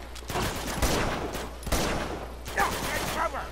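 Enemy gunfire aimed at the player in Uncharted 2, heard as a run of sharp, scattered shots and crackling bursts over a few seconds, fairly loud, with game sounds and some voices around it.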